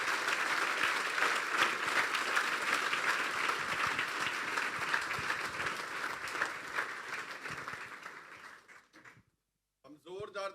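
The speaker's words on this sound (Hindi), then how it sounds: "यीशु के लिए ज़ोरदार तालियां बजाएं।" A church congregation claps loudly and steadily for several seconds during a sermon, then the applause fades out and a voice begins speaking.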